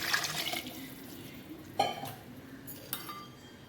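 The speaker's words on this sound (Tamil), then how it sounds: "இப்போ தண்ணி சேர்த்தாச்சு." Water poured into a metal pot while cooking vegetable biryani: a splashing stream at first, then fainter trickling broken by a few sharp clinks of the vessel near the microphone, no one speaking.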